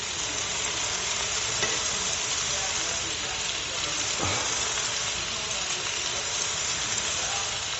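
Meat and sausage brown together in a pan with a steady, close sizzling hiss, broken by a couple of brief knocks as the pieces are moved.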